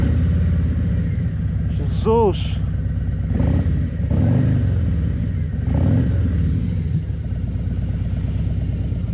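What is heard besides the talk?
Harley-Davidson motorcycle engine started and running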